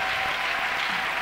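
Steady, dense applause from a church congregation, a brief continuous wash of many hands clapping at once with no pauses.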